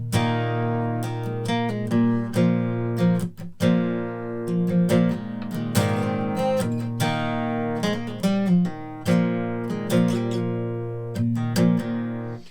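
Guitar playing the intro to a song with a capo, a steady run of picked and strummed notes in a bright, sustained rhythmic pattern, played alone with no talking.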